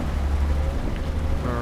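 Rain in the Euro Truck Simulator 2 driving game, a steady dense patter over a low rumble, continuous and fairly loud throughout.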